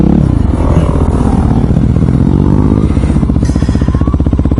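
A Kawasaki Ninja 250 motorcycle rides hard at high revs, its engine buzzing loud and close in a steady rapid pulse, the note shifting as it climbs and holds, with no voices.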